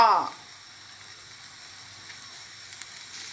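Pork belly with curry paste and pickled bamboo shoots sizzling in a pan, a sharp clatter of utensil at the start, then a soft steady frying hiss with faint occasional ticks.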